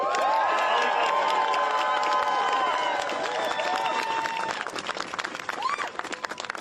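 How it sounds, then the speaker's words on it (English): A crowd claps and cheers at an outdoor New York City mayoral event, with a loud brassy tone ringing over the first few seconds before the clapping thins into scattered hands and voices. "if we can have one last round of applause for Tasha Van Auken."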